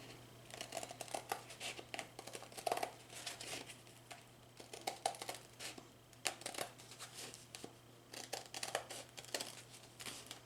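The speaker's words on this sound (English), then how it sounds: "then you can take your scissors" Repeated crisp snipping of scissors through felt, close up, in irregular bursts with soft rustling between cuts and a low steady hum underneath.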